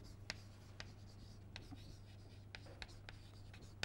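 Pen or chalk writing notes during a rocket propulsion lecture, a quiet scratching with faint rhythmic strokes over a low steady hum.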